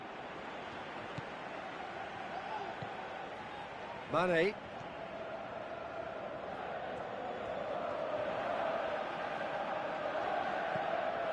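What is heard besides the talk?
crowd chanting in a football video game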